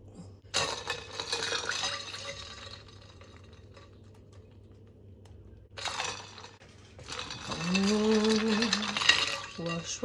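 Homemade butter is worked by hand in a bowl of ice water, giving bursts of sloshing, splashing and clinking that stop for a quiet middle stretch, then return louder and busier toward the end.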